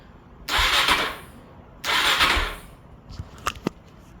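A 2022 Suzuki DRZ400 motorcycle engine, rebuilt after a crash, cranks over twice in long whirring bursts without catching, followed by a few short mechanical clicks.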